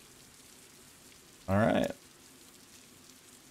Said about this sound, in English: At night in the rain.